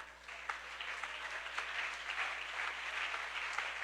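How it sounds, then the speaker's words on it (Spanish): Steady applause from a church congregation fills the room, a broad continuous wash of clapping at low to moderate level with no voices over it. "si tiene que aplaudirlo, apláudalo"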